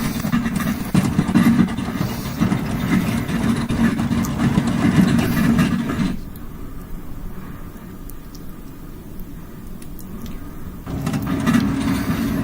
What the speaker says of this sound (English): Alright, all engines idle.